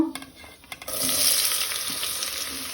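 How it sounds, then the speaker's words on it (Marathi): Onion dropping into hot oil with shahi jeera and whole spices for prawn biryani, a few clatters then a rising sizzle that holds steady and close. "आतां आमी तातूंत घालया कांदो।"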